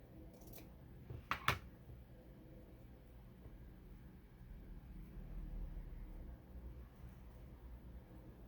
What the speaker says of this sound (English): I'm just going to cut these on an angle upward on each side.